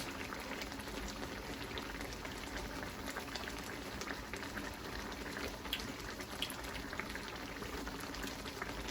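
Okra and fish simmering together in a pot for a Jamaican-style steamed fish, with a steady, soft bubbling hiss and small pops that continue evenly throughout.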